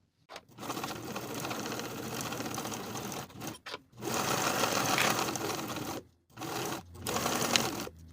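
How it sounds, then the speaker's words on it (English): A sewing machine stitches a pants pocket seam with a 5/8 inch allowance, running in several close, steady whirring bursts broken by short stops. "Sew with a 5/8 inch seam allowance"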